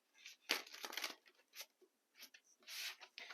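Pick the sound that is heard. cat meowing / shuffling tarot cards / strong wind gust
shuffling tarot cards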